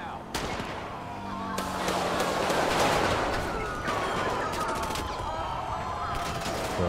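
Gunfire in GTA 5 during a police gang-unit shootout, with sharp shots and rapid volleys at a steady loudness against continuous game ambience.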